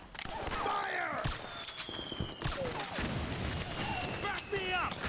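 Metal Gear Solid 4 battlefield gunfire, moderately quiet, with continuous scattered shots and bursts under shouting voices and whistling, whizzing effects.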